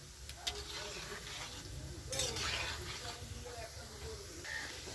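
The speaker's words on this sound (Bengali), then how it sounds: "ভালো করে নাড়াচাড়া করে ভাজা ভাজা হচ্ছে" Food frying in a pan while being stirred, with a soft sizzling hiss and occasional scrapes and clinks of the utensil against the pan, faint and close under a speaking voice.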